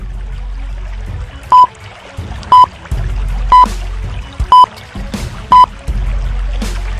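Bubbles rise through water in a steady gurgling stream, broken by short, bright electronic beeps at roughly one-second intervals.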